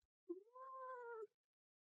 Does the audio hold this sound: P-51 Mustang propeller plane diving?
no